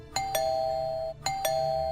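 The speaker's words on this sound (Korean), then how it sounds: "누가 초인종을 누르더래요" Two-tone doorbell chime rings twice in close succession, each ding-dong bright and sustained with a clear ringing tail, used as a horror radio sound effect inside a house at night; no voices.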